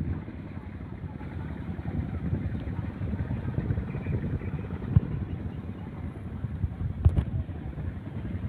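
A floating vegetable seller's boat on the Muruy River in Central Kalimantan chugs along with a low, steady motor hum, moderately close, with faint wind buffeting and a couple of brief knocks.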